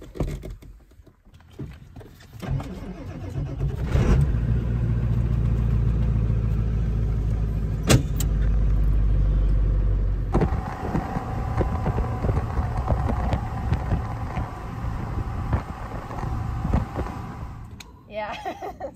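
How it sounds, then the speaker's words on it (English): An old tractor engine starts and settles into a loud, steady mid-pitched running drone, then drops to a rougher idle. People talk nearby over the engine noise. "we're getting ready to fire up this old tractor"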